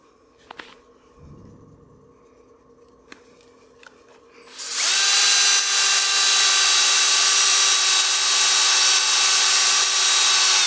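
An abrasive sanding disc bites into wood on a lathe while turning a cake stand, starting abruptly halfway through as a loud, steady, high-pitched whirring grind that holds without pause, after a quieter stretch of faint shop sounds.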